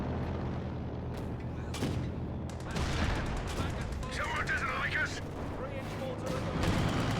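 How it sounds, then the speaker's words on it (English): Artillery and gunfire from a World War II strategy game rumble as a smoke barrage lands: several heavy booms and bursts scattered through a busy battle soundscape of distant shots and explosions. "There's a smoke barrage for the MG42"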